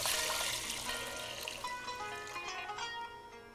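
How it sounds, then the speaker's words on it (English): Water pours steadily into a pot of drained, washed rice, a full gushing splash that settles into a bright continuous stream, close and loud. "Into this, I will add 6 cups of water."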